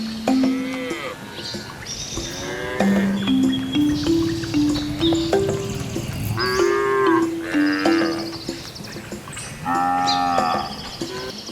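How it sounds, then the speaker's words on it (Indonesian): A cow moos repeatedly, with several long, loud, drawn-out calls near the listener that rise and fall in pitch, separated by short pauses. "Sapi adalah hewan memamah biak ruminansia besar dan berkuku belai."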